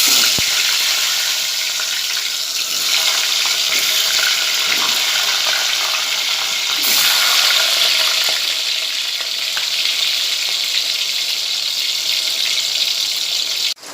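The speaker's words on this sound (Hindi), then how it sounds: "अब मैं इसमें बटाटे तलकर लूँगी।" Potatoes fry in hot oil in a pot over a gas flame, giving a steady, dense sizzle and crackle that runs unbroken and fairly loud from start to finish, with no voices.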